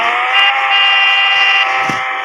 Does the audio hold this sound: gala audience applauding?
no